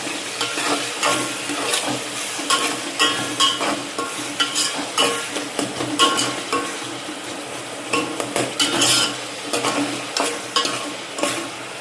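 Onion, tomato and coriander sizzle and roast in a pan for chana pulao, with repeated rhythmic scraping strokes of a spoon stirring against the metal, close and clear without talk.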